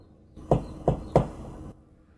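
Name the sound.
knocking on a door from outside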